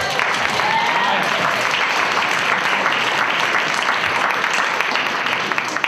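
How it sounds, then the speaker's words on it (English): Steady, dense audience applause fills a vegan festival stage area, loud and continuous throughout with a faint voice or two briefly audible underneath. "Let's have a round of applause for the people who"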